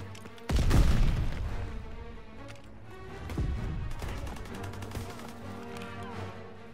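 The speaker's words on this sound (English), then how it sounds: "Grenades first!" Grenade blasts and gunfire in a first-person shooter video game: a loud, close explosive boom hits early, followed by sustained rattling gunfire and a second heavy burst midway, with scattered shots continuing to the end.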